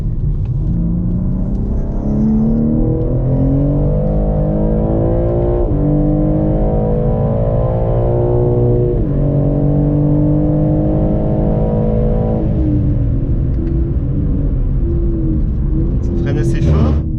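BMW M3 G80 engine accelerating and revving, heard from inside the cabin on a performance test, a loud continuous rumble rising in pitch through several gear changes, the tone stepping back down between pulls.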